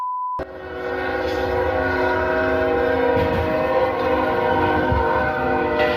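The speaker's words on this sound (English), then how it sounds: "they tried to outrun an oncoming train" A loud train horn blares continuously over the heavy rumble of rail cars rolling close by, after a brief electronic beep at the start.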